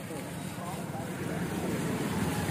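A 2013 Nissan Sunny XV car engine running, a steady, even droning hum heard close by without a break, with voices faintly present.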